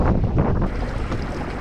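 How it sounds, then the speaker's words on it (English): Strong gusty wind rushes and buffets the microphone out on open water while Dungeness crabbing, loud and continuous with no voices. "Get a little windy out here once you get out a little farther out."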